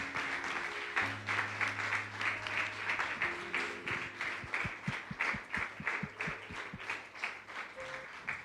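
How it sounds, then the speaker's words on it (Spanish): A church congregation at a Sunday service claps along in a fairly quiet, rhythmic burst of applause, with a sustained low organ or keyboard tone underneath and occasional scattered claps standing out. "Le damos un aplauso al Señor."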